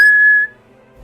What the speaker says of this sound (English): blowing on a whistle